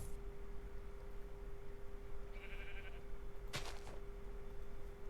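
A single sheep bleat rings out briefly in Minecraft, short and distinct over a quiet, faintly humming game background, with a small chime just before it.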